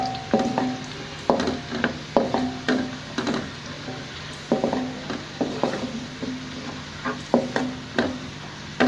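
Whole red chilies and onions fry in oil under a soft sizzle, broken by repeated sharp scraping and clinking strokes of a spoon against the pan in an uneven rhythm.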